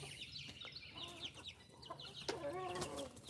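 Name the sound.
young roosters clucking outside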